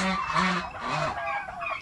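Domestic turkeys calling at a rural provincial homestead, a run of overlapping gobbling, honking calls close by, rising and falling in bursts across the short stretch.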